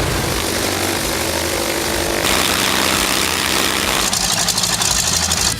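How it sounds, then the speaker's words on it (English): A propeller warplane engine in a video game roars loudly and continuously, its droning tone shifting in intensity and growing rougher toward the end. "You can experience it with the real roaring of the engine instead of a downloaded library sound."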